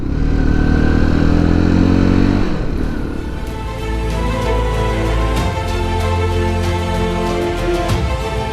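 A motorcycle engine droning steadily while riding through the Drenovo gorge near Prilep, loud and close, its note dropping after a few seconds and then settling into an even cruising hum.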